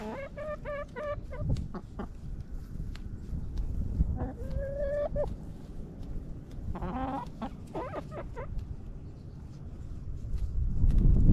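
Several chickens cluck and squawk nearby in bursts, with a continuous low rumble of background noise throughout.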